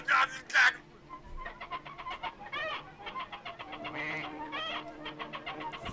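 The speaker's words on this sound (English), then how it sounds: "A bunch of chickens making noises." A bunch of chickens clucking and squawking from a cartoon, with two loud squawks at the start followed by steady, busy overlapping clucks throughout.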